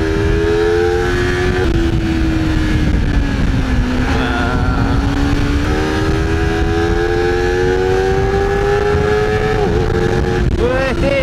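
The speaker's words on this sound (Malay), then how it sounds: "So korang boleh tengok tadi kan, masa aku bawa CBR 250RR ni" Honda CBR250RR motorcycle ridden through traffic, its engine a loud, close whine that rises and falls with gear changes and revs, while the rider talks over it.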